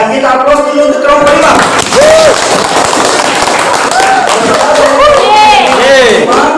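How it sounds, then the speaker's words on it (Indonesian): A classroom audience claps for a student group after its presentation, a steady wash of applause running under a loud teacher's voice and other chatter. "Ya, kita aplaus dulu untuk kelompok"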